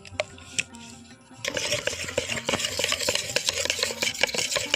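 Homemade nail polish ingredients, including a drop of rose water, are stirred together in a small container. Steady scraping and clinking continues close up, and a few soft taps come before the stirring starts.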